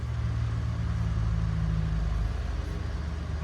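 Steady low rumble of a 1988 Toyota 4Runner's engine on a first test drive after an LCE Street Stroker install, droning evenly and close throughout with no talk.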